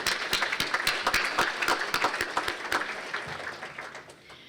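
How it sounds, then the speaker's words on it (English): An audience at a city's State of the City event applauds for city staff, a burst of dense clapping from a crowd in a hall that slowly thins and fades over a few seconds. "Just give them another round of applause."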